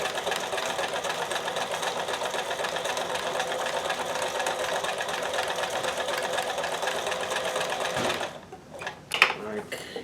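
A sewing machine stitches in a steady, continuous run after a fix for dropped stitches, then stops near the end, leaving a few soft handling clicks.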